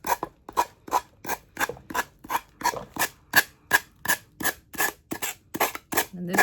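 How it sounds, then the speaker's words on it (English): Glued paper is sanded off with a heavy sander in quick, even back-and-forth rasping strokes, around sixteen close, crisp scrapes in a steady rhythm with nothing else heard. "Now I'm just sanding it off is all I'm doing"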